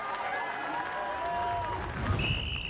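Crowd applauding and cheering at a Highland games heavy events contest, moderate and somewhat distant, with a continuous wash of clapping and a brief whistle near the end.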